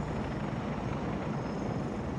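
Helicopter flying in Farming Simulator 2017, a loud, steady rotor and engine drone with dense low thumping that holds even through the whole stretch, no voices.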